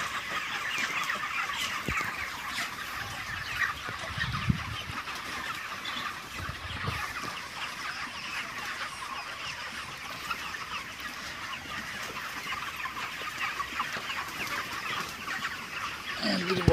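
Chickens, 28-day-old broilers, clucking and calling in a poultry shed, a steady continuous murmur of many birds at moderate distance with a few louder calls standing out.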